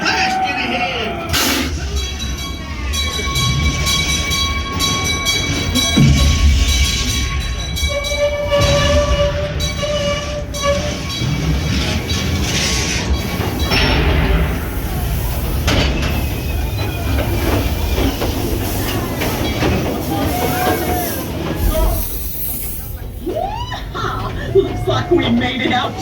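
A theme park train ride at Knott's Berry Farm rumbles along with clacking wheels, squeals and a whistle-like tone, while people talk and chuckle over the continuous rolling noise.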